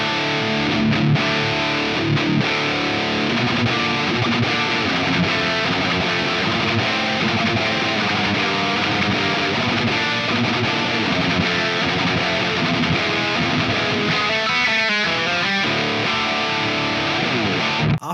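Overdriven electric guitar through a Plumes overdrive pedal, a dense, continuous boosted tone filling the whole stretch with sustained chords and riffing at steady loudness, no talking.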